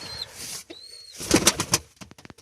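Pigeons, including a white male, coo and call close by in a loft, soft whistling tones giving way to louder burbling coos and a run of quick flutters or wing claps at the end.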